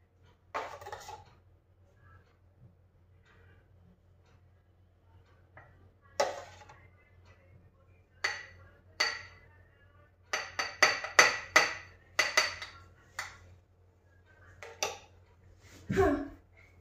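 Spoon and glass clinks while mixing cold coffee and pouring it into a glass, scattered sharp taps in quiet, clustering into a rapid run of clinks midway, with faint background hum.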